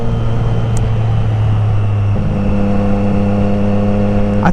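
A 2024 Triumph Street Triple RS motorcycle engine idles loudly and steadily, then its pitch steps up as the revs rise partway through, a continuous throaty exhaust drone throughout.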